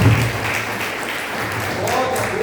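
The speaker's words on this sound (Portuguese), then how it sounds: "Palmas bem alegres para Jesus." Church congregation clapping during joyful worship, dense hand claps mixed with a voice and some singing underneath, fairly loud and continuous.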